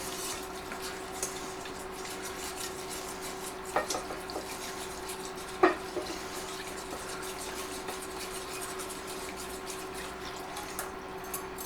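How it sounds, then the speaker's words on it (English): A spoon stirring milk into a tuna noodle casserole in a pot on an induction cooktop, with soft scraping and gentle liquid swirls, a few light clinks against the pot, quiet and steady throughout. "slowly stir your milk in"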